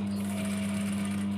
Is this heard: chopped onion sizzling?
no